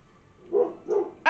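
A dog barks twice close by in a quiet home kitchen, two short sharp barks about a third of a second apart, followed by a sudden clatter.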